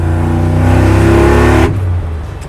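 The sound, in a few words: LT4-powered 1986 Chevrolet Silverado truck accelerating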